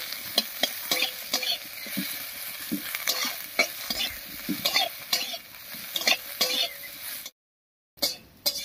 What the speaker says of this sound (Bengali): সব মশলাগুলোকে একসঙ্গে করে ভেজে নেব।